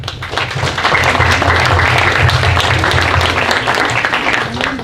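Audience applause at a civil-society panel on deforestation from oil palm and cacao plantations, a dense, steady wash of clapping from a room of people that holds for several seconds before easing slightly.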